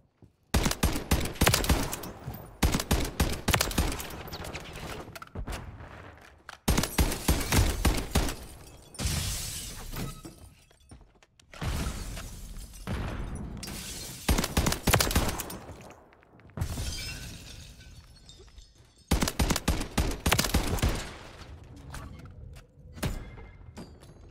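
MTZ Interceptor rifle firing in Modern Warfare 3: repeated loud, sharp gunshots in rhythmic volleys, separated by brief lulls and reload pauses, with no talk over them.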